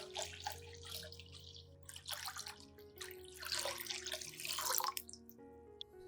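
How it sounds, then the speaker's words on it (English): Water splashing and trickling in bursts as a liter of clean water is poured into a container to dilute a garden plant solution, over a low steady hum. "Add 1 liter of clean water to dilute the solution."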